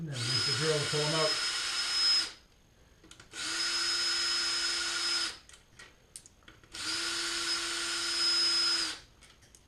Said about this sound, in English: And then use the drill to pull them out.